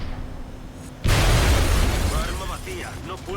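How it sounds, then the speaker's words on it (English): A sudden loud blast in the strategy game XCOM Long War erupts about a second in, with glass shattering and crumbling debris trailing off, and a voice may be faintly present under the aftermath. "Why is it so satisfying to hear an explosion where glass shatters?"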